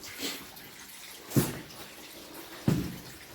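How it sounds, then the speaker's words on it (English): Water splashes and trickles steadily down a staircase in an underground tunnel, with two sharp thuds like footsteps landing in the wet; no voices. "Just listen to that water coming down the stairs."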